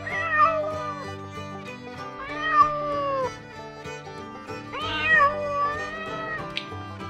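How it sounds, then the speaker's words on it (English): A cat meows repeatedly, with several drawn-out, wavering cries spaced across a few seconds, clear and moderately loud, with no talking. "Cat."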